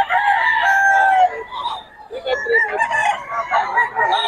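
A Karawayon rooster crows loudly and close, a long drawn-out call followed by broken clucking and further crowing, with a voice briefly in the background.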